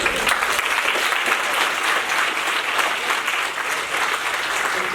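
An audience at an autism-specialist talk claps steadily, a dense, continuous wash of many hands at fairly close range for the whole stretch, with no break or fade.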